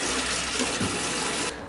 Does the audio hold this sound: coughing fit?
no